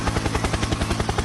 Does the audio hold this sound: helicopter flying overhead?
yes